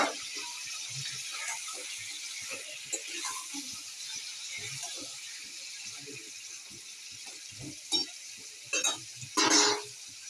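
Ginger-onion paste frying with chicken in a pan: a continuous soft sizzle with occasional stirring scrapes and rattles, and a louder clatter near the end.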